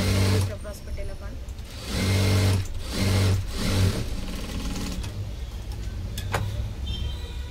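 Sewing machine stitching a blouse lining, its motor whirring in several short bursts with pauses between, close by, while someone speaks over the stitching.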